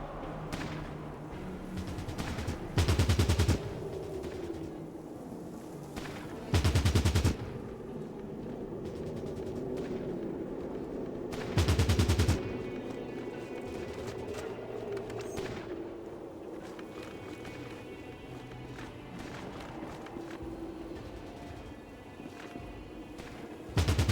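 Gunfire from the Fallout Tactics: Brotherhood of Steel game comes in a few short, loud bursts spaced several seconds apart over a quiet, steady background ambience.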